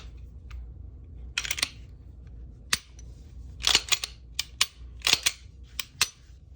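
A Glock 45 pistol slide is pulled back and released during reassembly, giving a series of sharp, close metallic clicks and snaps spread irregularly over several seconds in a quiet room.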